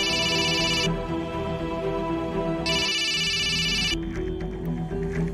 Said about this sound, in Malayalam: നിങ്ങളെന്താ ഫോൺ എടുക്കാത്തെ?